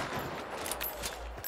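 Gunfire in the online shooter Hunt: Showdown, a few sharp reports within a brief burst of game noise, fairly loud and with no one speaking.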